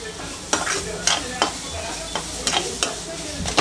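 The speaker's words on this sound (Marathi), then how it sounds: "बघू शकता तुम्ही कसं मॅश करतोय मी" Ripe mango being mashed and stirred in a pan while cooking mango sheera, giving soft wet squelches and scraping strokes with a faint sizzle underneath, repeating at an uneven rhythm close up.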